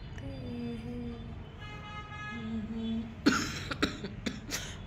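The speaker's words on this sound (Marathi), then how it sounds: "गळ्याला हात लावला तर खोकला यायला लागला." A few short, quiet coughs burst out one after another near the end, following a stretch of low background hum and faint tones.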